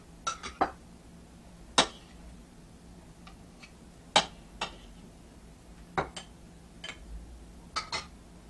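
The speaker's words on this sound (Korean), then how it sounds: "완성 접시에 두부와 미역을 담아 보겠습니다" Sparse, light clinks and taps of utensils against a dish as tofu and seaweed are placed in it for miso soup, about a dozen separate knocks at irregular intervals, quiet and close.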